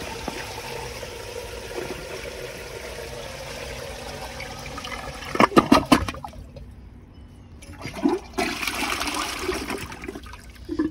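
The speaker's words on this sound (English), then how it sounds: "Can empty all the water out of the tank, even if it overflows." An American Standard Cadet space saver toilet flushes with a loud rush of water that drains, then refills with trickling and a second gush, close by; someone briefly speaks.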